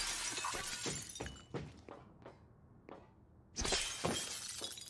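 Glass shattering in the video game Prey, loud crashing bursts of breaking glass with scattered tinkling fragments, a quieter lull mid-clip, then another loud shatter and debris near the end.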